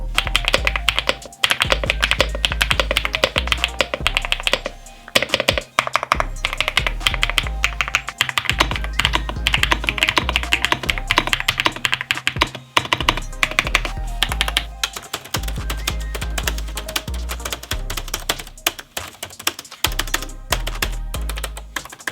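Rapid typing on a Tivique AX18 laptop keyboard, dense clusters of crisp key clicks with brief pauses and occasional heavier thumps, close and fairly loud.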